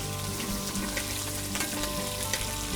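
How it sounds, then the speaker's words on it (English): Prawns sear in hot oil and butter in a pan, a dense, loud, unbroken sizzle close by with faint spatters and light crackles throughout, no voices. "don't stand directly over the top of the pan in case you're getting a little bit of oil or butter splattering"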